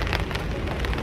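Rain patters steadily on a surface outdoors, a dense close hiss of drops with small irregular splashes across the brief moment.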